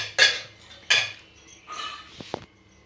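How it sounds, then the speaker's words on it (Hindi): Metal clatter of a pressure cooker being opened and boiled potatoes handled in a home kitchen, with a couple of sharp clanks followed by softer scraping and a few light knocks, close and alone. "कुकर खोल के आलू छीले।"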